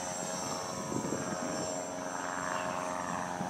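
A small Box Quad STEM-kit quadcopter drone flies close by, its motors giving off a steady, continuous buzzing whine that rises and falls slightly with throttle.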